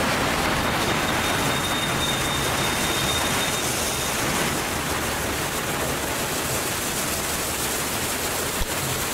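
A train running in a custom transport-network video game, a dense, steady rumbling roar that fills the whole stretch at constant loudness, with no talking.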